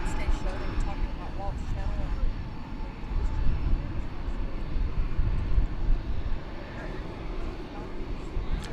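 A broad, steady roar comes from an Airbus A321 airliner at Dallas Fort Worth Airport, holding at moderate loudness while a person talks over it.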